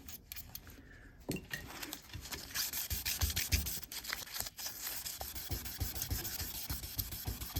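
Stainless steel trim being sanded with 2000-grit paper, steady scratchy rubbing strokes at close range with varying pressure and no voices.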